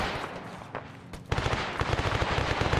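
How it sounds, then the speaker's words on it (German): Arma 3 gunfire: a quieter stretch of distant shots, then from about the midpoint a dense, loud run of rapid machine-gun bursts with sharp repeated cracks. "Schuss von hinten, ich ignoriere es mal"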